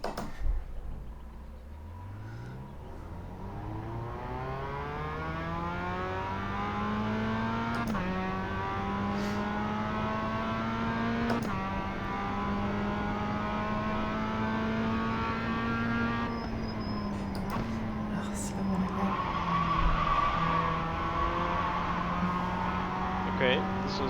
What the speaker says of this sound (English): trail braking or just sliding all over the track